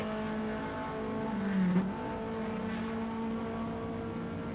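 A Ford Sierra Group A race car engine drones steadily at a distance at the 1990 Macau Guia race, with a brief rise in pitch midway, a continuous mechanical hum with no voices.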